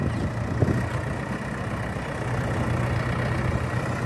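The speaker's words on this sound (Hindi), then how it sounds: "बिल्कुल आराम आराम से ट्रैक्टर को प्यार से चला रहे" A 30-year-old tractor's engine chugs at a low, steady idle, a continuous rumbling drone with a faint rhythmic knock, moderately near and without talk.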